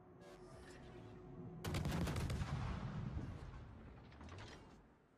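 Big naval shells landing in a warship video game, a sudden burst of booming, crackling impacts after a quiet stretch, loud and rolling before fading, with no voices.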